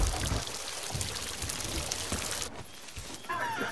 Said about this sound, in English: There's a lot of water in here now.